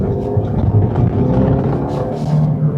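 Mini Cooper Goodwood Edition, a rare BMW-built Mini, accelerating through a turn; a steady, loud engine rumble with road noise holds throughout, swelling slightly as it pulls out of the corner.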